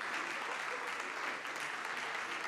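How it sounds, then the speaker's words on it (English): A social business gathering on building a culture of peace breaks into sustained applause as guests walk on stage, a thick, even wash of many hands clapping at a steady level throughout. "Yes, and with a big applause."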